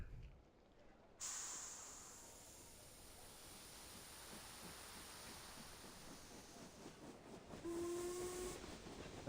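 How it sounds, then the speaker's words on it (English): In a video game, a steam train hisses steadily and then starts moving, with a sharp whistle sounding near the end over rising rumble and chuffing. "With a sharp whistle, the train surges forward, charging with growing speed into the black expanse."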